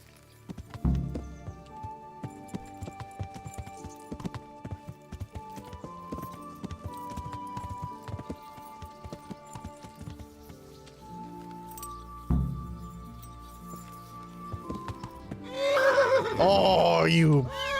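Hooves clop in irregular bursts, followed near the end by a loud, shrill horse whinny, with game sounds and faint voices around, in the video game Kingdom Come: Deliverance.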